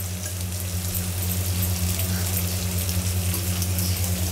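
Thinly sliced onions and finely chopped green chillies frying in a pan, a steady close sizzle with a constant low hum beneath it and no talking.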